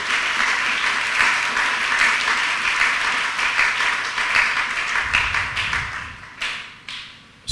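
A church congregation bursts into sustained applause, many hands clapping together in a loud, dense wash that thins into scattered, separate claps near the end.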